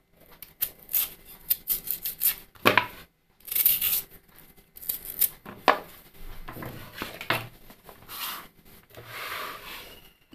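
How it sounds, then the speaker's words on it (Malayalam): A knife slicing raw mango into pieces on a board, with irregular scraping and chopping cuts, close and fairly quiet, without talk. "ഇനി ഇത് കഷ്ണങ്ങളാക്കി മുറിച്ചെടുക്കണം."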